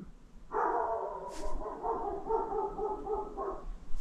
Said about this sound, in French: chien qui gueule